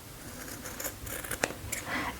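Scissors trim the fabric seam allowance on a chinos waistband, making a few quiet, close snips and rustles with one crisp cut standing out midway.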